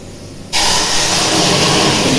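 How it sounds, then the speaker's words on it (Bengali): Whole spices tempering in hot oil for a vegetarian dish, bursting into a sudden loud, dense sizzle after a half-second of quiet and holding steady and close. "তেলটা গরম হয়ে গেছে এই ফোড়নটা দিয়ে দিলাম"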